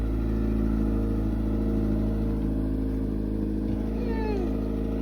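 A mid-engine, rear-wheel-drive Honda Civic conversion on its first test drive, its engine a steady loud drone with a constant low rumble throughout, close and continuous.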